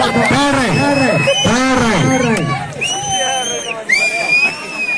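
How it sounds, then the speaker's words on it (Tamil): Fans at a village kabaddi match in Meerankulam roar, cheer and shout together, with loud sustained crowd noise and rising and falling tonal calls cutting through. "ரசிகர்களின் கரகோஷத்தின் மத்தியில்"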